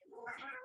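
A pet cat gives a single drawn-out meow, fairly close and clear, with no talking over it.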